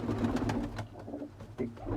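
Domestic breeding pigeons coo in a loft, soft repeated throaty coos with a low rhythmic rolling quality, faint and fairly close with no talk.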